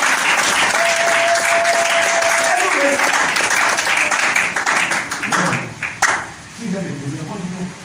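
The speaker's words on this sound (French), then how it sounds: "acclamation pour les enfants" A church congregation at a Sunday worship service applauds the children, loud sustained clapping with cheering voices over a held keyboard tone, fading into scattered claps and talking.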